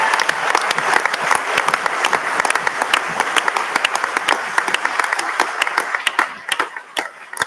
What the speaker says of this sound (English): So please join me in applauding Ash Regan for her courageous steps.